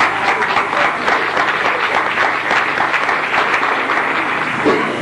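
A studio audience at a Hullas program claps loudly and steadily, a dense sustained round of applause heard on its own without talk.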